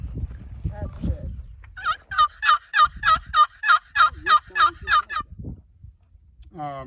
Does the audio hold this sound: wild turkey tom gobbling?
yes